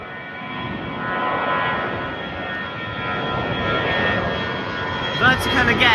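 An easyJet Airbus A321neo jet climbs out overhead after departing, a loud, broad, steady roar that holds across the whole stretch with a slight swell, while someone talks over it.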